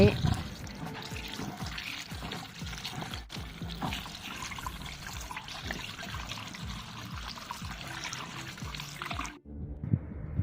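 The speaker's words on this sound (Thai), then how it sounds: "นำเงาะที่ได้นะคะไปล้างน้ำแล้วก็พักให้เสด็จน้ำไว้" Canned rambutans rinsed in water in a kitchen: continuous splashing and trickling of running water with faint clatter throughout, loud and close, cutting off abruptly near the end.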